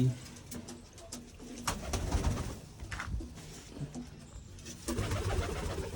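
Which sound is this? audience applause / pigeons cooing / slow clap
pigeons cooing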